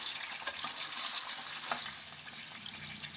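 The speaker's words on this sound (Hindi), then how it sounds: "मैंने ऑयल में चिकन डाल दी है। अब मैं थोड़ी देर इसमें इसको फ्राई करूंगी चिकन को।" Pieces of chicken fry in oil for chicken korma, giving a soft, continuous sizzle with faint bubbling and occasional light clicks, fairly quiet and steady with no voices.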